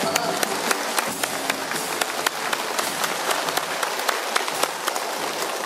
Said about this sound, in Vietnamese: Xin quý vị một tràng pháo tay thật nồng nhiệt nữa để chúc mừng sự kiện trọng đại này của cộng đồng.